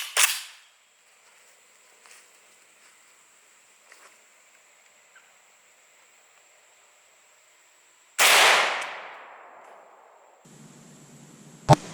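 AK74 rifle firing 5.45x39mm Hornady V-MAX rounds into ballistic gel: two loud, sharp shots about eight seconds apart, the second with a long ringing decay, and a faint high tone and small ticks between them.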